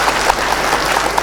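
Audience applause at a Hindi comedy poetry show (hasya kavi sammelan), a brief, dense burst of many hands clapping at steady loudness, with no gaps.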